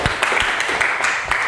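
A classroom group applauds after a student's presentation, with brisk, uneven clapping from several people, close and continuous for a moment.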